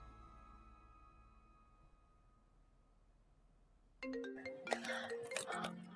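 A phone starts ringing in a quiet room, a bright, busy ring tone bursting in loudly after several seconds of near silence and continuing to the end.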